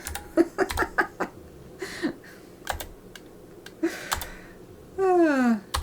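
Rapid clicking of keys on a computer keyboard in bursts, close and crisp, with brief laughter and a drawn-out vocal sound near the end.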